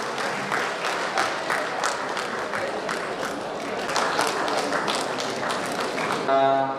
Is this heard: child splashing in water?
no